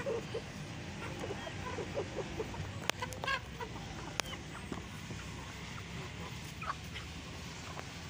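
An Aseel hen clucks softly and intermittently amid outdoor background noise, with a few sharp knocks and a faint voice in the distance.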